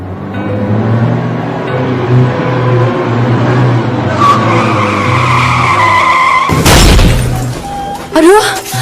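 A car skids with a long tire squeal and engine drone, then smashes into another car with a loud crash of breaking glass, followed by a brief squeal; sounds fill the scene close and loud.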